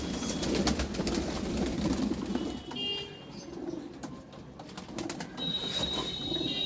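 Pigeons coo softly and repeatedly at a water spot as they drink, their low throaty calls close by, with a few faint vehicle horns in the distance.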